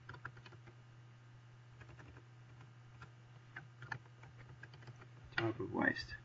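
Computer keyboard typing while building a chart in Excel: soft, quick keystroke taps recur at an irregular pace over a steady low hum, with a louder burst of noise at the end.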